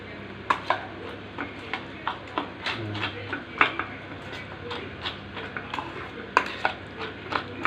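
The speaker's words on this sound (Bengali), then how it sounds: "এই দেখুন ভালো করে মেশাতে হবে, ভালো করে।" A spoon stirs Maggi noodle pizza batter in a bowl, clacking and scraping against the sides in quick, uneven strokes with scattered sharper knocks, close and fairly clear.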